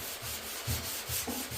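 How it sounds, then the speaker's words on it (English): Sandpaper of 120 grit rasps back and forth over the metal body panel of a 1969 Chevy Nova, close and loud, in steady rhythmic strokes with no voices. "You kind of sand the area around it and then kind of work your way in"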